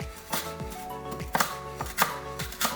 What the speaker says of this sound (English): Chop up your peppers, make sure that they're washed beforehand